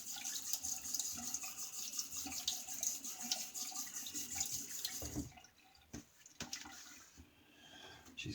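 A tap runs steadily into a sink to rinse a razor during a wet shave, close and fairly loud for five seconds, then stops, leaving a few faint drips and clinks.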